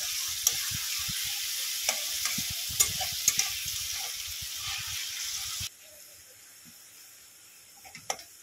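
Onions sizzle in a hot pan for a meat curry, a steady frying hiss broken by frequent stirring scrapes and clicks, then dropping to a quieter, softer sizzle partway through.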